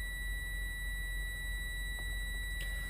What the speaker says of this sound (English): So my warning light and buzzer came on at or before